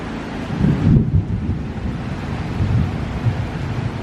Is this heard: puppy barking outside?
no